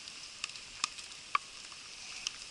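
Maple sap boils in an improvised evaporator pan with a faint, soft sizzle, broken by a few sparse, sharp pops and crackles, quiet and close with no speech.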